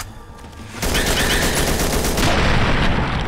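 Rifle gunfire in the Fallout Tale of Two Wastelands video game, a sustained loud burst of rapid shots that starts abruptly after a quiet moment and keeps rattling without a break.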